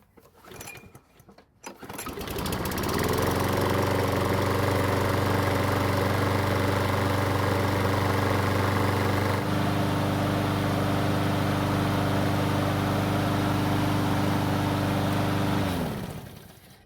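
A John Deere lawn mower's small engine catches and settles into a steady, loud idle that drones on evenly for over ten seconds before cutting off.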